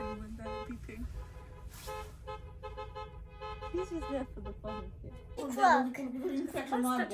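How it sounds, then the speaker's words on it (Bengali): Car horns honking in a stuck traffic jam on a street, several toots of varying pitch sounding moderately far off, with a louder burst of horns near the end and people talking over them. "এই হন শুনছো বাংলাদেশের মতো হন বাজা হয়েছে গাড়ি"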